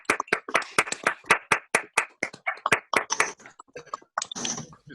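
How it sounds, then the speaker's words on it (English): Scattered hand clapping from a handful of unmuted participants on an online call, uneven and uncoordinated claps close to the microphone, thinning out toward the end with a faint voice at the close. "let's give a round of applause to our panelists"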